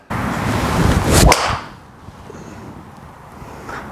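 A single sharp crack of a golf ball struck by a Callaway Rogue ST Max driver, loud and close, then a fading whoosh and quiet outdoor air.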